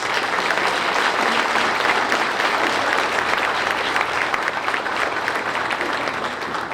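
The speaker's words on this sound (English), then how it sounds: "Give them a big round of applause." A campaign kickoff audience for a Hidalgo County court candidate breaks into steady, sustained applause, dense clapping filling the room at even loudness throughout with no speech over it.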